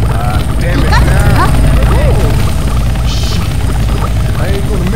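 Helicopter in the video game Left 4 Dead 2, a steady rotor drone running through the whole scene, loud and continuous beneath shouting voices and game effects.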